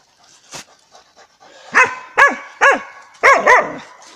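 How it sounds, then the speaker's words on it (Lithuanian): A hunting dog on a wild boar hunt pants softly, then lets out five loud, sharp barks in quick succession, close by and with no talk over them. "Bet gerai, kad Gudas taip gerai loja"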